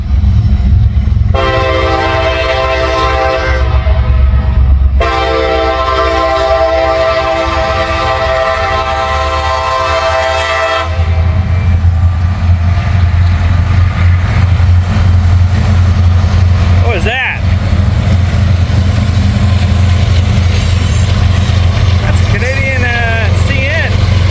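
Train sounding repeated long blasts of its horn while approaching a rail diamond crossing in a small Indiana town, followed by heavy rumbling of wagons rolling past nearby, with a sharp clank partway through.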